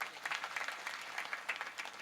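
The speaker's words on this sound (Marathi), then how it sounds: "ज्या मुलींनी लावले जरा त्या मुलींसाठी टाळ्या वाजा एकदा" An audience at a village kirtan gathering claps in applause, a steady scatter of many hands at moderate distance, with no voices over it.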